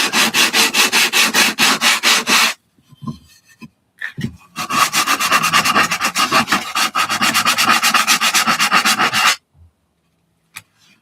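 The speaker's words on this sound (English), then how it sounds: "Some people like watching somebody sand a bit of wood." A piece of wood is sanded by hand in quick, rhythmic back-and-forth rasping strokes, close and loud, in two long bursts split by a short pause with a few scattered knocks, then silence.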